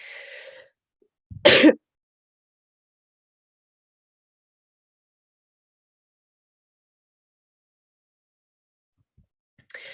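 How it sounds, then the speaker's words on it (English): A single short, rough throat clearing, loud and close, followed by a long stretch of near silence. "I needed to clear my throat for a moment"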